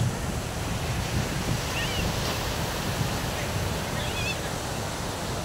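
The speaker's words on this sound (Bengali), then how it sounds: "খুবই সুন্দর বিচটার সৌন্দর্য, খুব পরিষ্কার জল" Ocean waves wash steadily onto Yarada beach in Vizag, a continuous broadband surf roar mixed with wind buffeting the microphone, moderately loud and unbroken.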